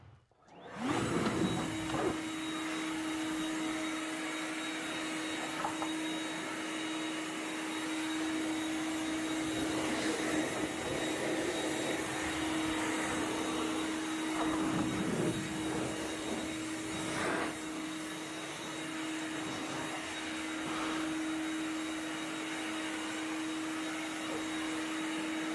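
A Ryobi 40-volt cordless backpack/handheld blower, model RY404180, runs in a garage with a continuous, steady, whining airflow roar, close and unbroken for the whole stretch.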